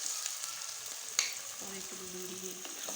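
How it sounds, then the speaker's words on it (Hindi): Half a kilo of onions with green chilies frying in oil give a steady close sizzle and crackle, with a faint clink near the middle and a low hum underneath. "माँ जी ने ऑयल में आधा किलो प्याज ऐड किया"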